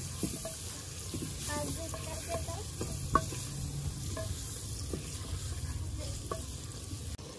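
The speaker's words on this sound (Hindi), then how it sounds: "और अब इसमें टमाटर डालेंगे और अच्छे से भून लेंगे ऑयल छोड़ने तक।" Tomatoes fry in oil in a pan with a quiet, steady sizzle, broken by the scrape of stirring and scattered light utensil taps, including one sharper knock.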